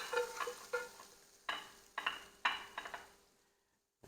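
Pork cooking in a pan gives a soft sizzle broken by several scraping stirs of a utensil against the pan, close and moderately quiet, fading toward the end.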